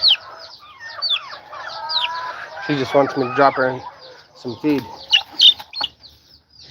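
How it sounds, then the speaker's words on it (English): Rhode Island Red hens cluck and chatter close by in a farmyard, with repeated short clucks and higher peeping calls, while a person talks over them about feeding. "We've got more Rhode Island reds back there."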